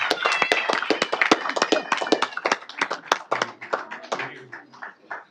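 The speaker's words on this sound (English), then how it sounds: "Let's give them a round of applause." An audience at a city council meeting gives a round of applause, a modest group of distinct sharp hand claps that is fairly quiet and thins toward the end, with a few low voices.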